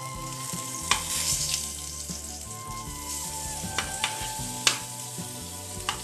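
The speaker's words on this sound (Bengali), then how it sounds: "তো পটল ভাজাটা আমি উল্টাচ্ছি" Slices of pointed gourd (potol) sizzling steadily in a frying pan as they are turned over, with soft sharp clinks of a spatula scattered over the continuous fry.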